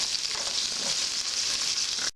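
Onion and green pepper saute in a pot, making a dense, steady sizzle that runs unbroken on its own before cutting off abruptly.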